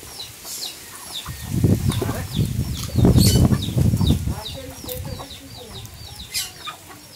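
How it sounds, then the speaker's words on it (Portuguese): Chickens in a backyard at a grandmother's house clucking and flapping their wings, a flurry of wingbeats and squawks bursting up mid-way, with scattered clucks around it at moderate distance. "Olha as galinhas, ó."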